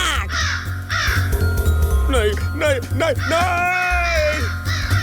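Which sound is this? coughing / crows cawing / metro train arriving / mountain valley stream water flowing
crows cawing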